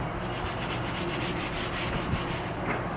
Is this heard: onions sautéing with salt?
no